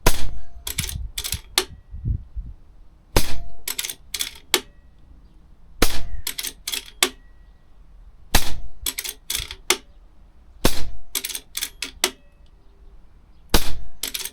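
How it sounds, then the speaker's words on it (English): An air rifle rapidly firing a full magazine of H&N Excite Hammer pellets, sharp close snaps in quick clusters of three to five shots, each followed by metallic clinks of pellets hitting the target, with short pauses between groups. "Let's see if we can rattle off a full magazine and see what happens with a bit of speed."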